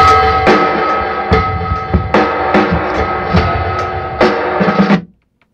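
Drum kit played against a click track with heavy reverb, steady hits and fills ringing out over a sustained wash, cutting off abruptly near the end.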